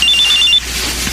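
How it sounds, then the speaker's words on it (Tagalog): A cellphone rings loudly and close, a quick electronic trill of rapid pulsing tones lasting about half a second before stopping. "kanino cellphone yung tumutunog?"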